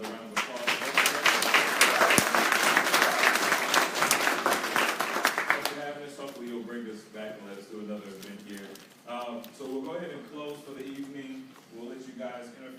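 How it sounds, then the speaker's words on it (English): Audience applause at a mental health stigma discussion event, a dense burst of clapping for about six seconds that fades out as a voice takes over. "Let's give Jameson and Vanderbilt another round of applause"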